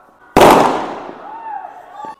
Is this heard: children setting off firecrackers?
yes